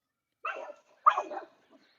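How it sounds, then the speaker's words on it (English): A dog gives two short barks a half-second apart, fairly close, with quiet in between and a faint trailing sound afterward. "they got the dog barking"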